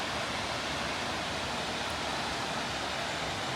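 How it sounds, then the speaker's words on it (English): The waterfall at Betws-y-Coed gives a constant, dense rushing roar of falling water. The sound is steady and unbroken throughout, with no voices. "What a beautiful waterfall this is."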